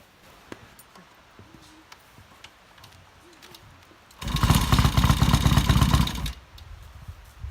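Faint birdsong and quiet outdoor sounds, then a motorcycle engine fires up and runs loudly for about two seconds before cutting back.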